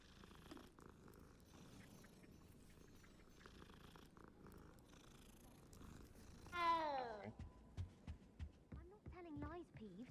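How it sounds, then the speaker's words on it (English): Cats purr in Hogwarts Legacy, a low rhythmic throbbing rumble that stays faint in the background, with a sharper chirping meow-like sound rising near the end. "Bunch of cats everywhere."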